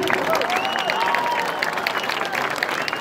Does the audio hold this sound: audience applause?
yes